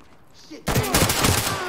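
Gunfire in the tactical shooter Ready or Not erupts suddenly after a quiet start, a loud close burst of rapid shots with a voice talking over it.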